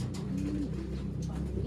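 Pigeon cooing in a loft of racing pigeons, a few soft low coos repeating close by against a steady background hum, with no talking.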